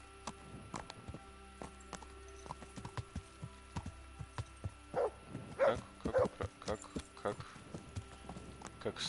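Horse hooves clip-clop in the game Kingdom Come: Deliverance, an irregular series of sharp knocking steps at close range, with game sounds alongside.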